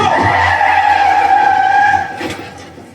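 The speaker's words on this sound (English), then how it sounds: "the bus transporting all those patients has an accident" A bus carrying psychiatric patients skids in an accident in the Halloween 2018 film, producing a loud, sustained tyre screech over engine roar that fades out near the end.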